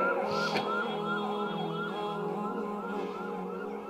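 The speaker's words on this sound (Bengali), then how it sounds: "ডানে কি অ্যাম্বুলেন্স যাচ্ছে" An ambulance siren passes by outside, its wailing tones rising and falling steadily and filling the whole stretch at fairly close range.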